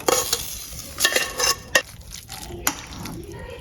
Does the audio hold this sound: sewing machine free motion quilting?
no